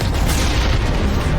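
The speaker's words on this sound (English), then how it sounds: "I'm enjoying that cannon." Heavy cannon fire from a vehicle-mounted gun in Mass Effect booms in a loud, dense barrage, blasts overlapping into a constant roar with no pause.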